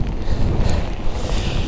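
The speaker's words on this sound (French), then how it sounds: "J'ai un vent très violent de face" A strong headwind batters the microphone while riding outdoors, a loud, constant low rumbling roar that fills the whole moment with no talking.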